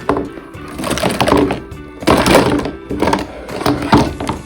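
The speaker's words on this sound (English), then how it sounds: "Even though the markers are organized, I'm still going to reorganize them just because it's satisfying." Markers being rearranged inside a box, with loud close clattering plastic knocks and shuffling in several bursts, each lasting about a second, and no talking.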